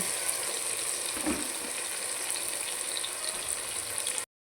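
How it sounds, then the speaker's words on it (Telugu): Potato pieces for a Tamil Nadu style aloo tomato curry sizzle faintly and steadily in a pan, with a soft stir or scrape partway through. "ఇప్పుడు ఆలుగడ్డ ముక్క కూడా వేసేసుకుందాం"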